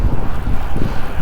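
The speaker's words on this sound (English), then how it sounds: "It's real windy." Strong wind at Sandown Racecourse buffets and rumbles loudly against the microphone in gusty, uneven bursts.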